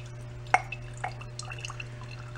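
Fuel dripping from the opened carburetor bowl of an abandoned John Deere x360 riding mower, a few faint, irregular close drips and small splashes over a low steady hum, with no talking.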